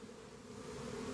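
Honeybees buzzing in a beehive colony, a faint, steady low hum of many wings that swells slightly toward the end, with no voices.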